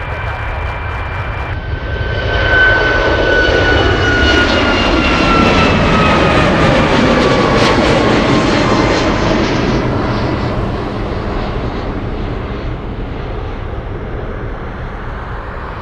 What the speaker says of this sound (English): United 959, 33, clear for takeoff.